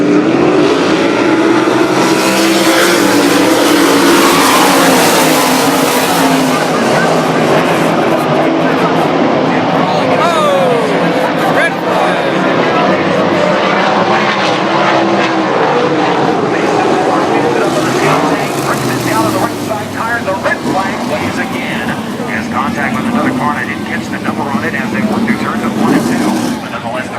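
Sprint race cars at full throttle at USA Raceway during an ASCS National Series B-Main at the Western World Championships: a loud, continuous engine roar that rises and falls as the field passes, with an announcer talking over it.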